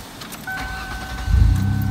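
A 1995 Ford Taurus engine cranks and starts at an auction lot: a faint electrical whine comes first, then the engine catches with a loud, close rumble and settles into a steady idle.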